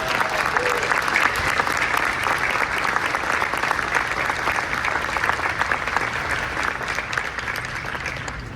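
Audience at a Hyundai press conference during the New York Auto Show bursts into sustained applause, dense, even clapping from a large crowd that holds throughout and fades slightly toward the end.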